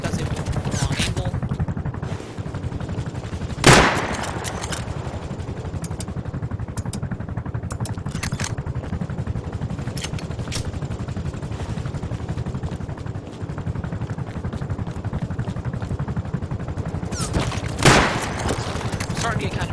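Scattered bursts of gunfire aimed at an attack helicopter in the game Rust, a few sharp loud shots over a steady rumbling rotor drone.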